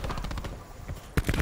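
A single sharp gunshot in a Rainbow Six Siege-style shooter match, landing late after a stretch of game noise and excited commentary, followed by more firing sounds.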